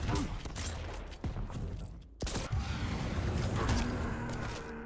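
Quake Champions duel gunfire with a railgun shot, sharp loud cracks and bursts over constant game noise, including a sudden strong blast just after a brief silence near the middle.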